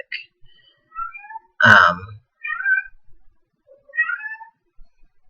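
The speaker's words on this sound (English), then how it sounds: "The cat's meowing." A cat meows close by in short separate calls, one louder and fuller cry near the middle, with quiet gaps in between.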